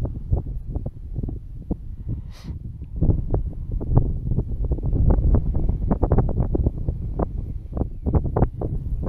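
Wind buffets the microphone on a boat while fishing for redfin perch, a loud, continuous rumble broken by gusty thumps.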